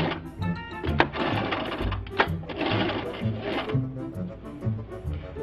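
A sewing machine runs zigzag stitches through elastic, a steady rapid mechanical whir with a regular ticking rhythm, close and clear, briefly paused and restarted.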